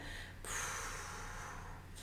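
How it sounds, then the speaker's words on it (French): A single forceful breath pushed out through the mouth during an abdominal-breathing grounding exercise, emptying the lungs, steady and close for about a second and a half with no talking. "vous soufflez par la bouche en creusant votre ventre pour bien vider vos poumons"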